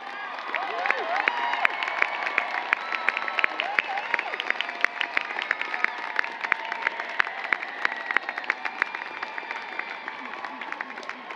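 A university commencement crowd applauds graduating honors students, steady brisk clapping spread across a large space, held at a moderate level throughout without pause.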